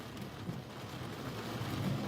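Steady rain and wind roar through a thunderstorm warning cell near Florence, Alabama, a continuous broadband wash with low rumbling beneath, heard from inside a moving storm-chasing vehicle.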